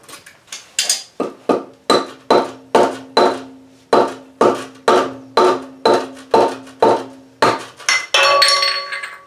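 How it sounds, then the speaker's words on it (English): A hammer taps a trailer wheel part, a Harbor Freight trailer hub, in about fifteen sharp, ringing metallic strikes at a steady, quick rhythm, loud and close, then a final rougher scrape. "So you just give this thing a couple taps all around and it'll pop off just like you saw."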